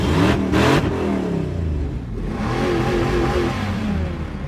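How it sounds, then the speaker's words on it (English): Several cars rev their engines together at the start of a three-way drag race through city streets, one of them a pink Cadillac, producing a loud, close roar that swells and holds steady with no talking. "All right, here we go with our 3-way drag race through the city"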